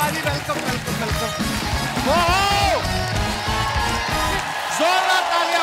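Loud crowd cheering and applause at a live show welcoming wrestler The Great Khali on stage, with music and shouted talk over the noise throughout.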